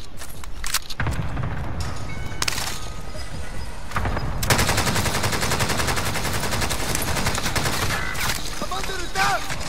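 Warzone gunfire: rapid automatic bursts and single shots crackling through a noisy firefight, with a dense sustained volley in the second half and scattered quieter shots earlier, while players talk over it.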